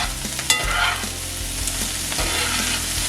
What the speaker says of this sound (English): Just want to let that onion get nice and soft here.